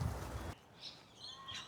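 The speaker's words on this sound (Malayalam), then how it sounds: "ഈ ഓസ്ട്രേലിയയിലെ കാക്കയില്ലേ" An Australian crow caws a few times, faint and fairly distant, after a short burst of louder, low noise at the start.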